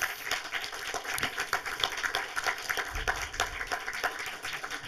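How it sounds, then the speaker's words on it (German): A cinema audience at a film talk for a Tatort crime-drama screening applauds continuously, a dense, moderately distant patter of many hands clapping with no voices on top. "Dafür schon mal einen herzlichen Applaus, dass ihr da seid"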